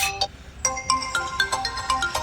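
Ringtone melody from a Tecno Pova 6 Pro phone speaker at full volume, a bright rhythmic run of repeated chiming tones, loud and close, with no talking.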